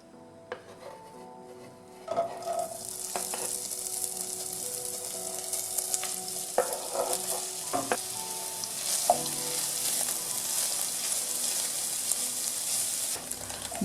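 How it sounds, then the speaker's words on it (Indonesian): Loud, steady sizzling of beef frying in two tablespoons of hot cooking oil, starting suddenly, with occasional clinks and stirring scrapes, no voices. "Panaskan 2 sendok makan minyak goreng dan masukkan daging sapinya."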